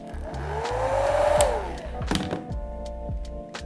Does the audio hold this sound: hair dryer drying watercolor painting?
yes